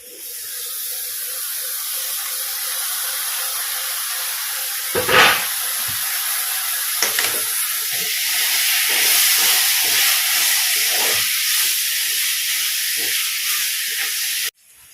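Tomatoes go into a hot pan of sautéing shallots for an onion theyal, giving a loud, steady hiss with a sharp burst of sizzle, then scattered crackles and spits that carry on close by with no talk.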